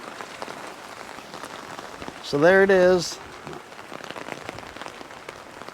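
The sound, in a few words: rain falling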